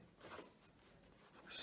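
Braun fountain pen nib scratching and gliding across smooth Tomoe River paper in short strokes, very faint and close, with no talking.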